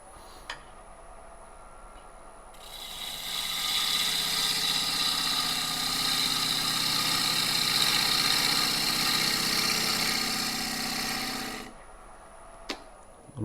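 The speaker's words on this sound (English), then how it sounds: "I'm going to get a 1/2 inch gouge, and I'm going to do a little downhill cut to get past this just to get my final shape." A 1/2 inch gouge makes a downhill cut on apple wood spinning on a lathe. It gives a steady, even shearing hiss that lasts about nine seconds, close by and alone, with quiet motor hum before and after.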